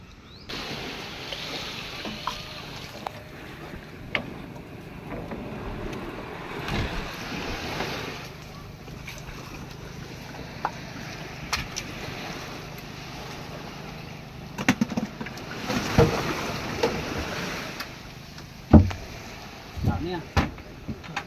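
Boat on the sea off Puerto Princesa, Philippines, with waves, wind buffeting the microphone and an engine droning, under intermittent talk and occasional thumps.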